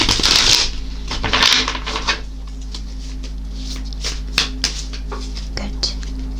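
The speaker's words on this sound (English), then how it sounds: "I feel the need to shuffle it again." A tarot deck is shuffled close by in quick riffling bursts, then softer scattered taps and card handling follow, with faint low voices in the background.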